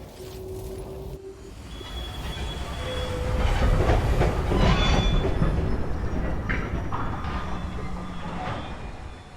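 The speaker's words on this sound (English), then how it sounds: "Just riding on the train with my dead buddy." Train ride in the game Cronos: loud rolling rail rumble with clattering wheels, metallic squeal tones and a brief whistle-like pitch, swelling midway then easing, with no voices.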